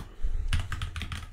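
Keys clack on a computer keyboard as code is typed, a quiet pause followed by a quick burst of several crisp, close keystrokes.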